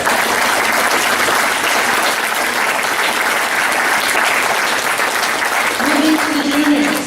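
A concert audience applauds the chorus members, loud sustained clapping filling the hall for several seconds, with a faint voice coming in near the end.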